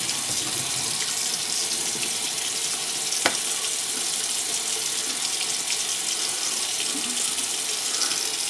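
A bathroom tap runs steadily into a sink while someone rinses their face after a shave with a Parker A1R travel razor, with a constant hiss of flowing water and one brief clack partway through.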